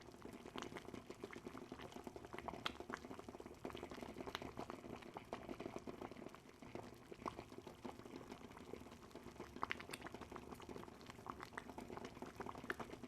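A pot of water comes to a full rolling boil for Hakka cooking, a dense, continuous bubbling and popping that holds steady and faint throughout, with no voices.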